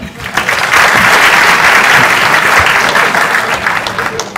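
Loud, close applause from an audience at a Python programming conference talk, swelling quickly and holding steady for a few seconds before starting to fade.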